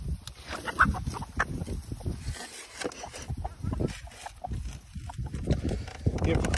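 A backyard flock of around thirty to forty chickens clucks and bustles while being fed treats, with busy overlapping calls and scratching throughout and a person talking over them.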